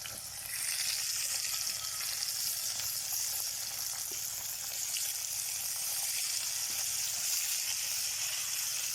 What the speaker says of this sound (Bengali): পেঁয়াজ দিলাম, সাথে দিলাম পেঁয়াজের পাতা।